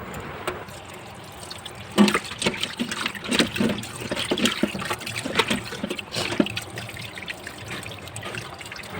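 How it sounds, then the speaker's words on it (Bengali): Cut loitta (Bombay duck) fish is washed under running water in a kitchen: a steady trickle with irregular splashing and sloshing as the pieces are rinsed by hand. "এখন আমি পরিষ্কার করে মাছটাকে ধুয়ে নেব।"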